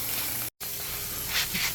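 Continuous close sizzle of surf and turf frying on a small burner, a bright hiss with small crackles, briefly cutting out for a moment before resuming.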